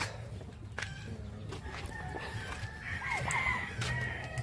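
A rooster crows at a distance, faint against a murmur of farmyard background sounds and scattered bird calls.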